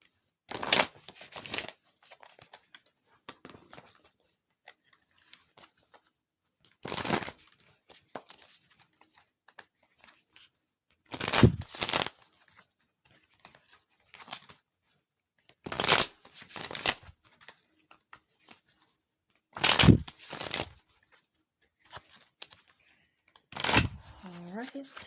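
Prism Oracle cards being shuffled in short, crisp riffling bursts that recur every few seconds, close to the listener, with near silence between them.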